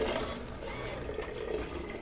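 A coin-operated water vending machine in Kathmandu pours water into a cup, a faint, continuous splashing stream heard close and alone.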